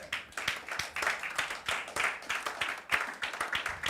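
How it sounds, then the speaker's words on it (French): Audience hands clap in a church, a quick, uneven patter of applause from a small group, close and steady for several seconds with no one speaking over it. "you shouldn't clap"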